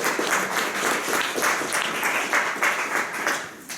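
Audience applause for a speaker at an expert talk on human footprints along the shoreline: a dense, steady burst of many hands clapping that holds for a few seconds and thins slightly toward the end.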